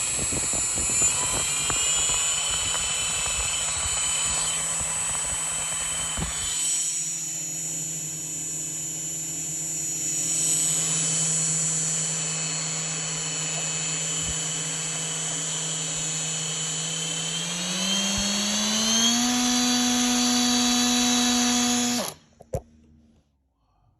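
An 1806 1800kv brushless motor on a thrust test spins a propeller at half throttle with a loud, steady, whining drone. The pitch climbs near the end before the motor abruptly cuts out.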